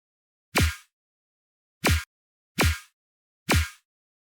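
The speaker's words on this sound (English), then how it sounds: "I have this like switch up snare thing that I'm going to be using for the main drop" Four punchy switch-up snare hits for a main drop, each a sharp broadband crack over a low thump with a short tail, the first preceded by a brief reverse swell; spaced unevenly, loud and dry with no talk.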